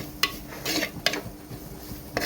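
Chicken is stirred with ground roasted coconut in a pan, with quiet scraping and a few sharp clinks of a utensil against the pan at irregular intervals.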